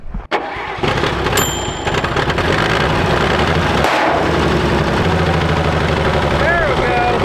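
An old World War 2 era Chevrolet truck, long stored in a barn, cranks and its engine catches, then runs loud and steady close by with a rough mid-range rumble and people talking over it.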